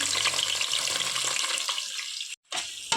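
Sliced onions, about four of them, fry in hot oil for mutton biryani, giving a loud, steady sizzle that thins out, cuts off briefly, then returns faintly.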